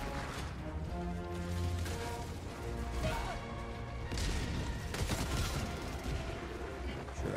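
Rapid gunfire from an EMS sentry turret in Helldivers 2 rattles continuously alongside crashing impacts and busy battle noise, dense and sustained throughout with no pause.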